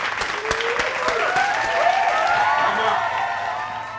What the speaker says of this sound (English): Ladies and gentlemen, give a round of applause for Mr. Bola Tinubu.